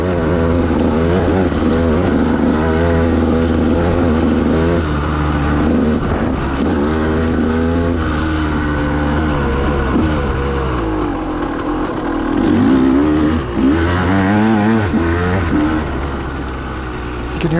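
A KTM dirt bike revving and accelerating on a rocky trail, its engine loud and continuous with rising and falling pitch as the throttle opens, heard close from the rider's position.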